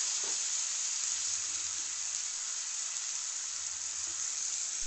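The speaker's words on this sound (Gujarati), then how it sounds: "હવે આ બટાકાને પણ અહીં આપણે તેલમાં એકાદ મિનિટ માટે સાંતળી લઈશું." Diced potatoes sauté in hot oil with tomatoes for a potato curry, giving a continuous even sizzle throughout, close and steady with no talking.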